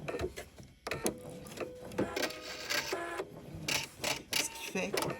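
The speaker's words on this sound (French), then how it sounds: "je vais vraiment coudre en m'assurant d'avoir toujours un bon alignement pour aller coudre à l'autre bout aussi" Sewing machine stitching a seam joining strips of fabric for a jelly roll rug, with bursts of mechanical whirring and clatter, stopping and restarting, alongside some handling sounds.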